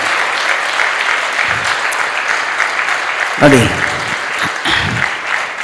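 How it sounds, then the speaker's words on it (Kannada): Audience in a Kannada comedy event hall clapping together for brave soldiers, a steady sustained wave of applause throughout with a voice speaking briefly over it. "ವೀರ ಯೋಧರ ಹೆಸರು ಹೇಳಿದ ತಕ್ಷಣ ಕೈಗಳು ಮೇಲೆತ್ತಿ ಚಪ್ಪಾಳೆ ತಟ್ಟಿದ ನಿಮಗೆಲ್ಲರಿಗೂ ತುಂಬ ಹೃದಯದ ಅಭಿನಂದನೆ"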